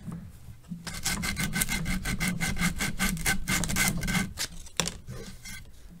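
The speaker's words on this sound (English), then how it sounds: "I'm just gonna annihilate that with" Sandpaper rubbed briskly over a wooden walking stick in a workshop, a fast run of rhythmic rasping strokes, close and steady, slowing near the end.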